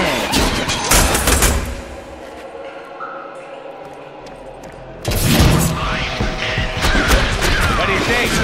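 Bursts of gunfire in the Deadpool video game, rapid clattering shots in dense volleys at the start and again after a quieter stretch, loud and close.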